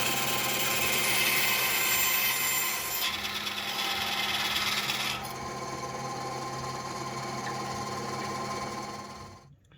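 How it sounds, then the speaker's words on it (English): A bandsaw runs continuously through wood with a steady, bright, hissing buzz close to the listener, changing tone a couple of times partway through before it cuts off abruptly at the end. "These are the bandsaw again."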